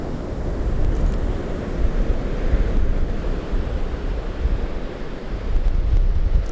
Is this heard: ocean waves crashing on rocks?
yes